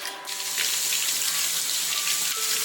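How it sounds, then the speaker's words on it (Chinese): Tap water runs steadily into a sink while pork bones are washed, a loud close rush with slight splashing variations and no talking. "猪骨先洗掉一遍，再加1勺盐，再来点生粉，来抓洗干净。"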